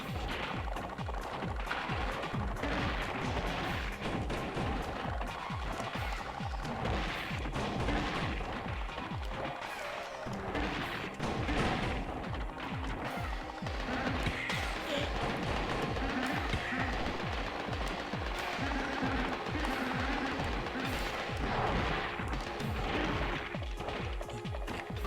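Gato Roboto video game missile launcher firing, with rapid repeated bursts of punchy blasts and impacts running continuously over game ambience; fairly quiet overall.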